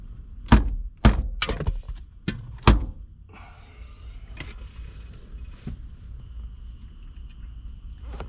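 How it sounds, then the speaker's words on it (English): A dead blow hammer smacks a rearview mirror into place on a 1997 Mercedes-Benz S500, landing about five sharp, close thunks in quick succession before a quieter stretch of faint rustling. "it turns out the way to get it on is to use a dead blow hammer and smack it"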